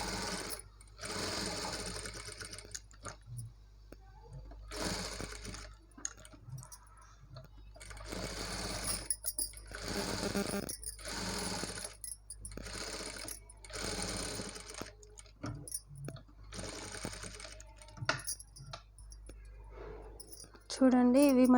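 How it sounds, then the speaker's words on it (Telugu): A sewing machine top-stitches a baby frock in short, rapid bursts of whirring stitches separated by pauses, with someone speaking between and over the runs. "ఇప్పుడు మనకి ఇక్కడ దీనిపైన ఒక టాప్ స్టిచ్ వేసేయాలి"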